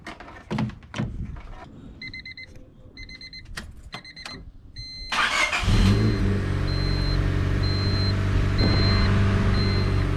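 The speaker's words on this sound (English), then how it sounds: "So now I'm going to start up the car." A 1998 Honda Civic with a timing light clipped to the number 1 spark plug wire is started. Clicks and a chiming door warning come first, then the starter cranks and the engine catches into a steady, loud idle.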